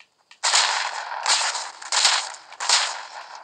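Video game gunfire: four loud, sharp broadband bursts in quick succession, each with a short tail, heard alone without talk.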